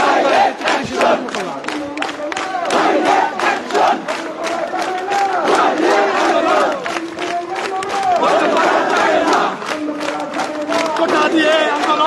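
A large crowd of protesters at Shahbagh in Dhaka, facing police in an anti-quota demonstration, chants slogans in rhythmic unison, loud and close, the call-and-response shouts repeating steadily throughout.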